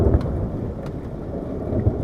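Heavy rain and hail pour down in a storm in Punjab with a dense, steady roar, punctuated by a few low thumps, loud and close, with no voices.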